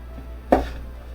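A single crisp knife chop through vegetables on a board, cutting larger slices in half into matchsticks for a stir fry of japchae, one short close stroke in an otherwise quiet kitchen.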